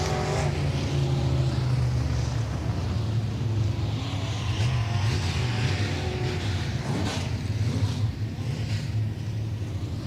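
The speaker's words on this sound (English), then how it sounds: "38 down the front stretch into turn 1 and 2" Midwest Mod race cars roar around the Humboldt Speedway dirt track, loud sustained engine drone with rising and falling revs as cars pass, continuous throughout.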